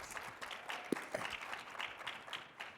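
An audience at a panel on Nevada voting changes at IndyFest 2024 applauds a panelist with soft, distant, scattered clapping throughout, quiet and diffuse, with a faint voice briefly underneath.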